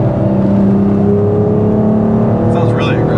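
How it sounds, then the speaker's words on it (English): A Dodge Charger fitted with universal valved mufflers drones loudly with a deep, steady exhaust rumble that rises slightly in pitch, close by, while someone talks over it near the end. "We're getting some good intake noise up front, get exhaust out back."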